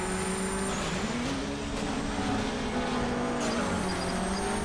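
A Citroen rally car engine in Colin McRae: DIRT drones steadily at high revs with slight pitch shifts, loud and constant, with brief clunks over the top.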